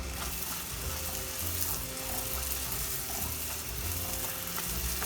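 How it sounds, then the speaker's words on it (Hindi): Puri deep-frying in hot oil gives a dense, steady sizzle and bubbling close by, broad and unbroken from start to finish, with no voices over it. "मैं आपको और एक फ्राई करके दिखाती हूँ।"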